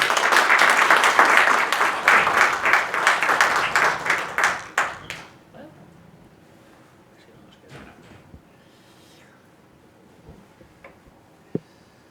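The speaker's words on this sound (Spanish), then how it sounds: "Un fuerte aplauso para él." A conference audience at an immigration debate breaks into strong applause for a speaker. The clapping is loud and dense for about five seconds, then thins to scattered claps and quiet room noise with a few faint voices.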